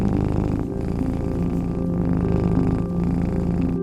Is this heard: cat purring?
yes